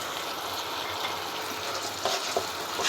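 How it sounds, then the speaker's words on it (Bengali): Turmeric, coriander powder, chili powder and salt sautéing in a pan, a steady close sizzle throughout with a few faint clicks of stirring near the end. "ভালোভাবে মশলাটা কষিয়ে"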